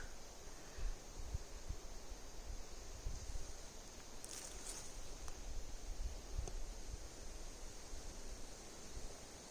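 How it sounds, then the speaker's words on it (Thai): Wind blowing steadily outdoors on a clear day, a constant broad rushing and buffeting noise with occasional gusts and no voices. "ลมพัดตลอดเลยนะคะ"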